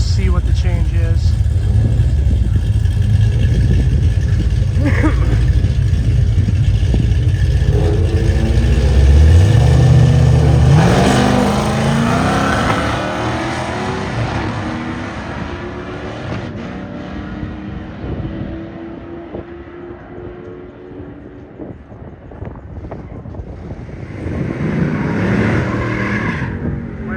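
A nitrous-boosted drag race car engine roars loudly and steadily, revving hard as it launches down the strip on a windy day, then fades into the distance with people talking over the engine noise.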